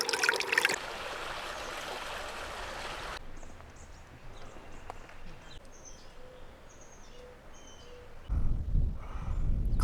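Caliente Agua Creek along the Pacific Crest Trail: a steady, soft trickle and flow of water heard nearby, with faint bird chirps, a burst of louder rushing at the start and a deeper rumble toward the end.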